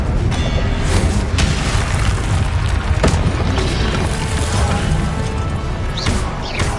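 A fire spell cast during combat in a Harry Potter video game, with a loud, dense rumble of booms and crashes running steadily throughout and sharper impacts near one, three and six seconds.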